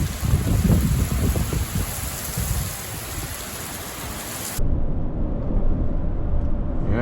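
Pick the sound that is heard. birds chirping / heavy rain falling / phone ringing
heavy rain falling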